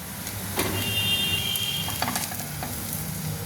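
A vegetable paratha stuffed with carrot, beans, capsicum, chopped onion and coriander fries in a pan, giving a close, continuous sizzle with occasional spatula scrapes.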